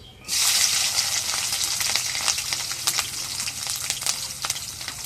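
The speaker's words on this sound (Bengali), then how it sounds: "কুকারে তেল দিয়ে দিই এখন কাঁচামরিচ কেলা দিয়ে দিই" Green chillies hit hot oil in a pressure cooker with a sudden loud sizzle, settling into steady, crackling frying with scattered pops and spits.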